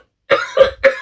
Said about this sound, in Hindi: खांसी लगी गंदे वाली।